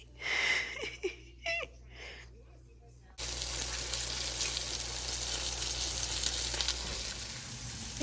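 Fish hits a hot pan partway through, and a loud, steady frying sizzle follows. Before it, voices laugh and chatter over quiet background.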